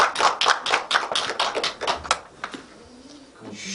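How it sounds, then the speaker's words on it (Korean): Audience applause at the close of a Korean history lecture, a dense burst of clapping that thins out after a few seconds and gives way to faint voices. "박수"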